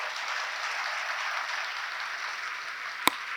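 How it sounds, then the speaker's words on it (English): Steady applause from an audience at a disability-ability celebration event, a sustained even wash of clapping with one sharp louder clap near the end. "give a big round of applause"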